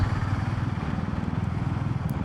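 A Royal Enfield Meteor 350 motorcycle rides along, its single-cylinder engine thumping in a steady, rapid pulse close by with no talk.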